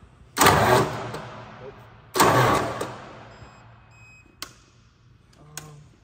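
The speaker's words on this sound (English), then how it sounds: "This engine don't sound good." Diesel engine hanging from a chain cranks in two loud bursts, each about a second long, without catching; faint clicks and quiet tones follow in a mostly still space.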